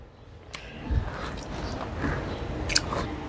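Someone biting into and chewing homemade chilli paneer up close, a few soft crunchy bites followed by wet chewing, with faint room noise and no talking.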